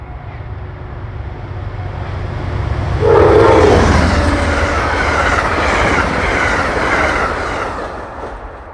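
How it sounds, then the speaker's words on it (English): An Amtrak P42 diesel locomotive leads a passenger train east through an interlocking, its engine roar swelling loudly as it passes close by, with a rolling rumble of railcars, a brief horn-like tone and steady wheel noise trailing off. "P42 number 88 leads train 42 east through the interlocking."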